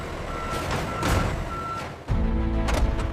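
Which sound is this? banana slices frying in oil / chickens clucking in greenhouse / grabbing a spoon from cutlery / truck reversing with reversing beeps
truck reversing with reversing beeps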